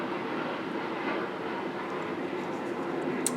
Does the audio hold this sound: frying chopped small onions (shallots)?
no